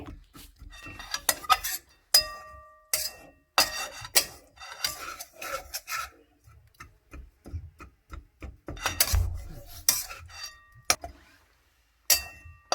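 Mawa being stirred into roasted gram flour in a pan for Surat ghari sweets, with scraping and clinking strokes in uneven bursts, close and fairly clear, without speech.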